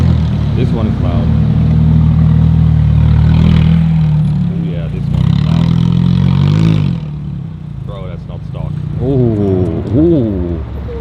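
Ferrari sports cars revving loudly at a large Ferrari gathering in Aarberg, with rising and falling engine swoops near and in the distance, mixed with voices talking over the noise.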